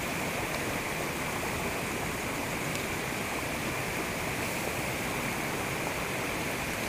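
A mountain stream flows steadily beside a riverside meal, its constant rushing murmur spread evenly throughout with no speech over it.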